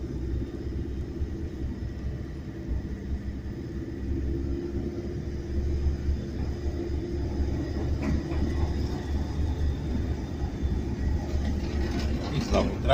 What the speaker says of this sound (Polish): Tramwaj znowu z pasa zjechał.